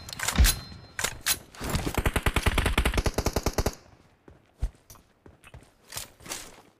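Gunfire in the battle video game PUBG, a rapid automatic burst of loud, evenly spaced shots followed by scattered single shots and clicks, close and punchy.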